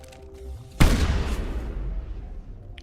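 A single sharp blast in the Mass Effect game hits suddenly and loud, then a rumbling, noisy tail decays over the next two seconds with no talk.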